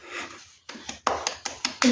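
A 10-month-old baby clapping hands, a few soft, uneven claps in an irregular rhythm, close by and quiet, with little talk around them.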